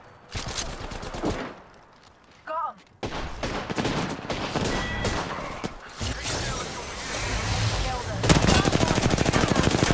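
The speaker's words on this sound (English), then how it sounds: "Hey, I'm getting shot." Rapid automatic gunfire from Apex Legends comes in dense bursts, with a brief lull near the start, then sustained volleys building toward a louder close. A voice is heard amid the shooting.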